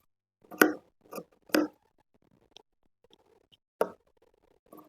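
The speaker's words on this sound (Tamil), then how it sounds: "இப்போ இங்கே இருக்க எக்ஸ்ட்ரா உள்ள கிளாத்லாம் நம்ம வந்து கட் பண்ணி எடுத்துடலாம்" Sharp snips of scissors cutting away extra cloth after stitching a neck design, a few close crisp cuts with gaps between them, quiet otherwise.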